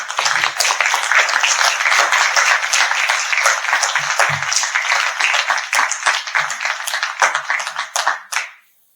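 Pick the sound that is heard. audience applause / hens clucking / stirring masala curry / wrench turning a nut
audience applause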